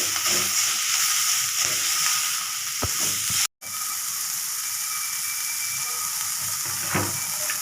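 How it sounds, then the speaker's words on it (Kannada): Coriander leaves frying in hot oil make a bright, continuous close sizzle with a few utensil clicks and a brief dropout midway, no voices. "ನೋಡಿ ಇದು ಕೊತ್ತಂಬರಿ ಸೊಪ್ಪೆಲ್ಲ ಈ ಥರ ಫ್ರೈ ಆಗಿದೆ"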